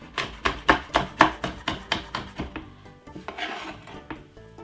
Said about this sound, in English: Cut it up very small.